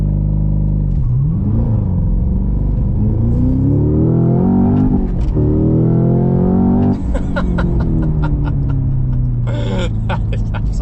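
Cadillac CT5-V Blackwing using launch control set to 3,500 RPM, engine held at a loud rumbling idle then surging hard as it accelerates, with rising revs, a gear change and clattering shifts near the end.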